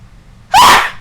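A single loud, sharp sneeze close up, bursting suddenly out of quiet breathing and trailing off quickly.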